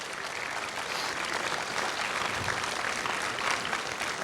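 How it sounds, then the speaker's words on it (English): A round of applause at a property awards event rolls on steadily for several seconds, dense, even clapping from a sizable audience with no talk over it. "Can we please give them a round of applause?"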